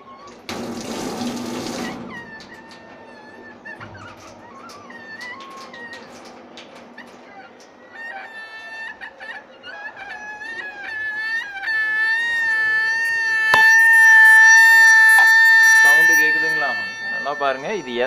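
Water pipe making a wailing, crying sound, starting with a short gush of running water, then high whining tones that rise, hold and warble like a mewing cry, growing louder and more sustained toward the end.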